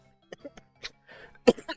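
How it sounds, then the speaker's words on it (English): A few short, dry coughs and throat-clearing bursts from someone getting over a cough, close and quiet, ending in a louder final cough. "I'm still getting over my cough"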